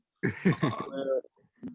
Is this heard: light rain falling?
no